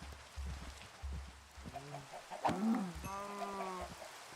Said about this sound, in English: Two more chickens.